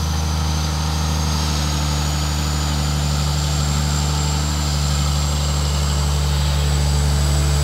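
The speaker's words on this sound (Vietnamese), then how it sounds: "Cũng là cơ Komatsu đời tống này. Máy nghe êm." Steady drone of a Komatsu excavator engine running while loading sand, loud and close, with a deep low rumble and an even tone that holds without a break.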